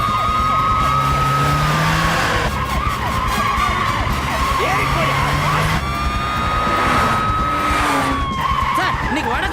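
A car speeds and skids around turns in a Tamil action film scene, its loud engine roar and squealing tires sustained throughout over a dense, busy background.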